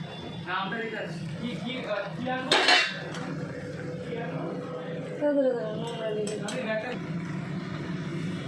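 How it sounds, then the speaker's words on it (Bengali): Utensil stirring tomatoes in a cooking pan, with scraping and clinking against the pan in short bursts, close and moderately loud, under steady background hum and some speech. "টমেটোগুলো দিয়ে আমি এবার নাড়ব।"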